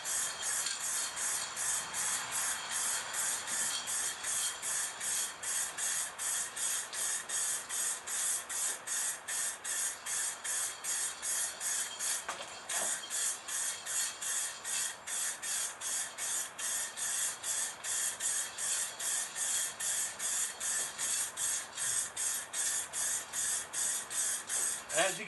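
Spray paint hissing steadily from an aerosol can onto the fender of a 2001 Dodge Ram 2500, a continuous close, loud hiss pulsing in short rapid bursts with a brief pause midway.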